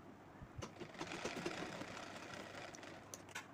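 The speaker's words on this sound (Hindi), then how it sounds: "तो इस तरह से हमें सिलाई लगा लेनी है।" Sewing machine stitching fabric for a pillow cover made from an old kurti, a faint, steady mechanical whir running quietly throughout with a few light clicks.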